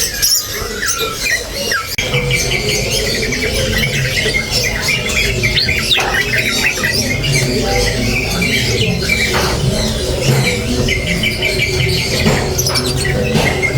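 A sooty-headed bulbul sings in rapid, chattering phrases, bright and close, repeating bursts of song throughout with brief pauses between runs.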